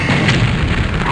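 Weapon fire in the turn-based strategy game Terror From The Deep lands as one loud, booming blast. A dense rumble fills the whole short moment.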